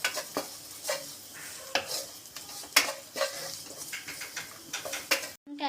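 A spoon scrapes and stirs turmeric and chili powder into browned onions in a sizzling pan for a clam roast, irregular sharp scraping strokes over a low steady fry, close by, with no talking.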